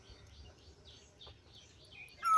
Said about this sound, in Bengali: তো এখানে এখন কোকিল ডাকছে গাছে,